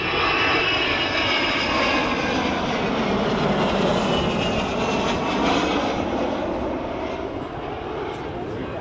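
Avro Vulcan jet bomber engines roar loud and continuous in a broad, steady wash that fades slightly toward the end, with a voice talking over it.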